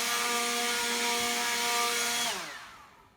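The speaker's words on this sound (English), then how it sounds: "I'm going to use this leaf blower to blow out any dust from construction or pollen" A leaf blower roars steadily while blasting construction dust and pollen from the joints of outdoor porcelain tile, loud and continuous, then its motor winds down and fades near the end.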